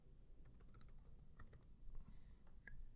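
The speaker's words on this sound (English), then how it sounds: "Simply type in Reliax" Computer keyboard keys tapped in quick, uneven bursts while entering a product name into a supply website search box; crisp, close clicks with no talking.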